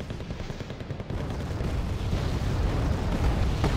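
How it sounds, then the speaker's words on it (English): Napalm air-strike explosions burst in the Cold War strategy game Wargame AirLand Battle. The roar is dense and continuous and builds louder over a few seconds, with crackling bursts layered into it and no clear gaps. "And more napalm runs again."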